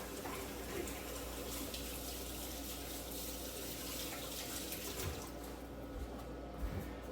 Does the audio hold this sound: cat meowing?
no